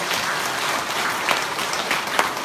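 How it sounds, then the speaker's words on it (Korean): A church congregation at an Easter service applauds together, a dense, even wash of clapping held steady throughout with no voices over it. "우리 하나님께 영광의 박수를 올리겠습니다."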